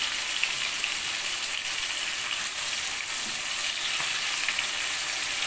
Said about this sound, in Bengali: মাছটা আমার এপাশ ওপাশ করে ভেজে নেওয়া হয়ে গেছে।